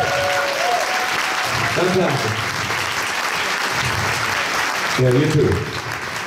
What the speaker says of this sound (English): I just like to give a big round of applause to the band.